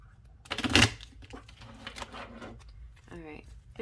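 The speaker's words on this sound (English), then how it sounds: "Let me see if I can shuffle them." A deck of tarot cards is riffled and shuffled in a quick burst, followed by softer rustling and card handling, with a voice speaking briefly near the end.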